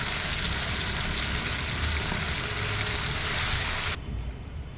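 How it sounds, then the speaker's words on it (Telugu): Ground paste for a paneer curry hits a hot frying pan and is stirred in, giving a steady, loud hiss and sizzle that cuts off sharply near the end. "ఇవి మంచిగా ఫ్రై అయ్యాక మన మీదకి ఏవైతే పేస్ట్ పట్టుకున్నామో అది దీంట్లోనే వేసేసుకోవాలి వేసుకొని మంచిగా మిక్స్ చేసేసుకోవాలి"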